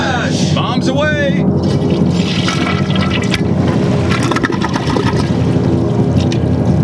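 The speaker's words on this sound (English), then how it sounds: "Will it flush? Bombs away." A toilet flushes baby carrots down the bowl, a loud, continuous rush of swirling water that fills the whole stretch, with a brief squeaky sound near the start.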